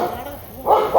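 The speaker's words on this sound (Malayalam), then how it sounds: "കള്ളറെ കണ്ടു പട്ടി വയ്ക്കാൻ തുടങ്ങി." A dog barks at a group of young men sneaking in to pick rambutan fruit, letting out two short barks near the end after a quieter stretch with background sound.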